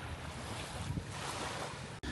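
Surf and wind at a beach in Cebu, a steady broadband wash of waves with gusty wind buffeting the microphone, continuous and fairly close, with a brief dropout near the end.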